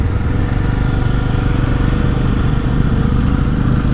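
A Royal Enfield Super Meteor cruiser motorcycle, in first gear with light half-clutch, climbs a steep off-road trek trail. Its engine gives a loud, close, steady throbbing rumble throughout, with no pauses and no talk.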